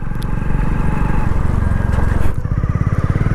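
Motorcycle engine running as the rider shifts into fourth gear with the clutch pressed, a close, throbbing chug that surges briefly then settles into a steady pulsing idle-like beat.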